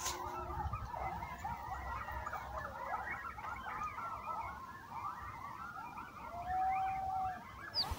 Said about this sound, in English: It started at 4 in the morning with the coyotes howling and yipping up a storm.